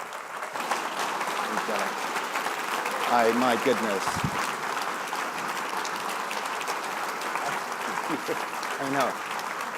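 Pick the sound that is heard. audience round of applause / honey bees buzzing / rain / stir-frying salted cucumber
audience round of applause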